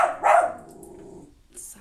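Dogs barking indoors: a loud burst of barks near the start, then a quieter bark or yip near the end, close by.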